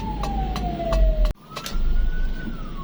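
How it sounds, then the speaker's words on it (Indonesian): An ambulance siren wails through jammed night traffic in Manado, a loud swept tone falling then rising again after a brief cut, with repeated sharp clicks and a rumble of engines beneath. "Ada ambulans teman-teman ya."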